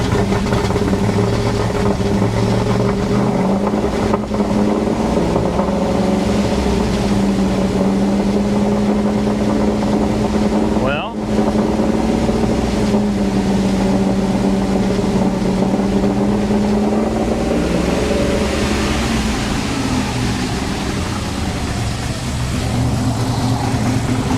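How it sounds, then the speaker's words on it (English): A broken, poorly running Maserati Quattroporte S engine is throttled up, its steady loud drone rising and swelling into a rev around the middle, then holding a rough idle hum throughout. "Give her a little throttle."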